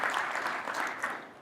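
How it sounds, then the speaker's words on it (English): Brief audience applause at a tech conference talk on a Terraform infrastructure journey, a steady wash of many hands clapping that holds level for just over a second. "give him a round of applause."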